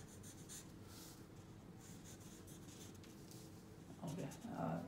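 A pen scratches across paper while a pizza is drawn, a faint, steady scribbling rasp that runs continuously, with a voice briefly coming in near the end.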